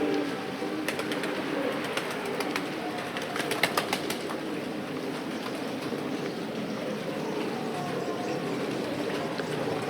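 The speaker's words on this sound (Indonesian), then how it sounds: "Dan di sini ada ternak burung merpati kawan-kawan." Pigeons coo steadily at a pigeon farm beside a white house in Sulawesi, Indonesia, a dense overlapping chorus with scattered wingbeats and a faint background hum, no talking.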